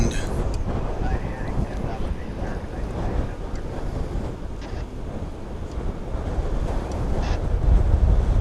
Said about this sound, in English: but that wind.